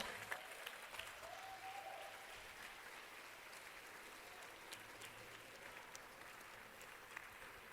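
A church congregation at a Bola de Neve service in Itaquera applauding together, a continuous even patter of clapping heard from a distance and fairly faint, with no speech over it.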